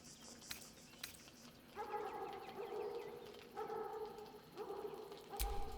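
Biscotti, a dog in Baldur's Gate 3, gives a few quiet whines and yips with soft howling tones, fairly faint, set against light game ambience.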